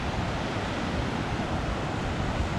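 Ocean waves at Myrtle Beach wash and rumble in a continuous, dense roar, with wind buffeting mixed in and no distinct breaks between the breakers.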